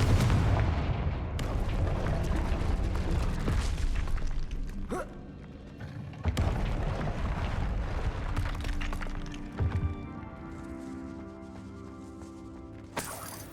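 In the video game Hogwarts Legacy, the Confringo fire blast spell sends out repeated booming explosions with sharp cracking onsets over a dense, sustained rumble, loud and close, with no voices.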